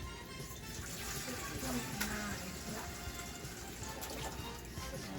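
Water poured from a quart mason jar into a pan while making sea moss gel, a steady splashing trickle running throughout at moderate loudness.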